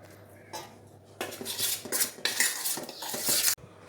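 Warm salted water worked into wheat flour in a bowl, with scraping, clinking stirs and wet mixing bursts in irregular strokes, close and fairly loud, after a few quiet taps.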